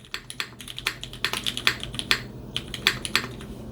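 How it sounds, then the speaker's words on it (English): Normal-paced typing on a D84V2 computer keyboard: a close, irregular run of crisp key clacks, some quick and bunched, others spaced apart, with no voices. "when I type normally, this is just it"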